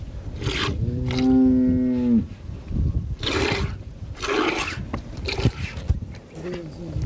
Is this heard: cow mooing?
yes